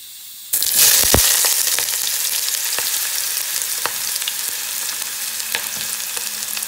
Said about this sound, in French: je baisse le feu et je commence par faire revenir mes oignons gentiment.